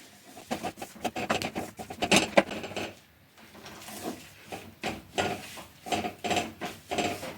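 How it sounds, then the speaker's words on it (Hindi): Sugar syrup is worked into a sesame mixture in a pan for sesame barfi, with continuous scraping and rubbing strokes of a spoon against the pan, uneven and close, with a short pause midway and no talking. "तो एक ही साथ नहीं डालेंगे, थोड़ी थोड़ी करके डालेंगे और मिक्स करते जाएंगे।"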